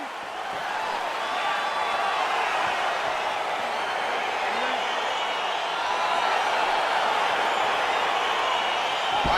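A simulated arena crowd in the UFC 4 video game roars as a fight gets underway, a dense, continuous wash of cheering that swells slightly partway through.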